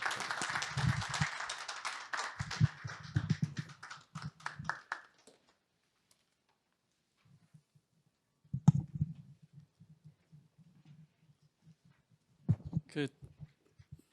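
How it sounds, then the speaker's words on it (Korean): An audience at a youth-leadership training forum claps to welcome a guest speaker, a moderate round of clapping over the first five seconds that thins and stops, followed by near silence and a few isolated thumps. "큰 박수로 환영해 주시기 바랍니다"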